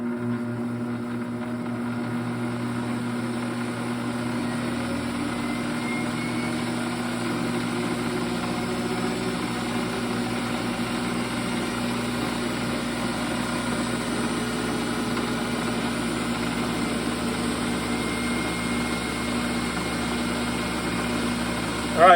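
A Chinese benchtop lathe spins at about 1000 RPM, turning a brushless motor, with a steady droning hum and whine that holds at an even level throughout without pause.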